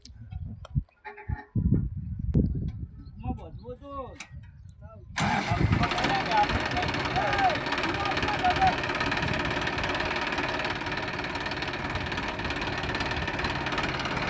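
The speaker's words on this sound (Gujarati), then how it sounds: "હવે ટ્રેક્ટર ખેંચવાનું ચાલુ કર્યું છે" A loud Mahindra tractor engine starts up after some talk and runs steadily while pulling free from a field where it is stuck under a heavy load, a heavy rumbling drone to the end, voices faintly underneath.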